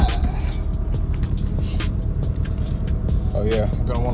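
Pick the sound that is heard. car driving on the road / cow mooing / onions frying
car driving on the road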